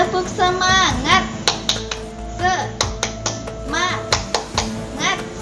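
Children chant a rhythmic 'tepuk semangat' clap routine at an Idul Adha celebration, with sharp hand claps and finger snaps punctuating the sing-song voices in a steady pattern.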